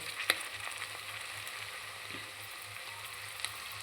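Vegetables fry in ghee with a soft, steady sizzle and an occasional faint crackle or stir, quiet and close with no talk.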